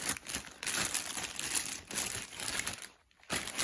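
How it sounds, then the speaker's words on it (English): Rev Gear MMA gloves being unwrapped from their packaging, close, loud crinkling and crumpling of plastic and paper in bursts, with a brief pause near the end. "So let's unwrap it."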